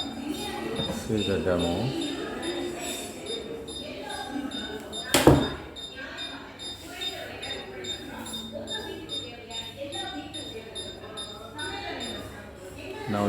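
An electronic door lock on a door controller panel releases after a button press, giving one sharp, loud click midway through steady talk by a man explaining the setup.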